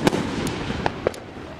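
Fireworks and rockets launched at a local park crack and pop in a quick irregular burst of about five sharp reports, loud and close, with a few whistling bangs.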